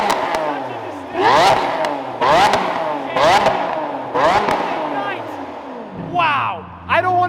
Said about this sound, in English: It's got an FI exhaust.